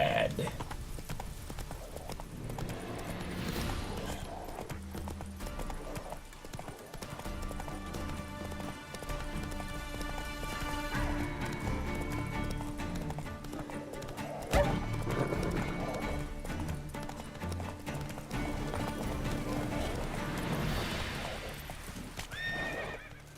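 Hooves clip-clop in a steady galloping rhythm for a long stretch, with a horse whinnying at times amid layered background sound in the video game The Witcher 3.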